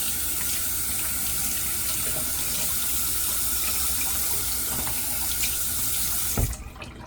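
A tap runs water steadily and close by to wet a brush, a continuous splashing rush that cuts off abruptly near the end.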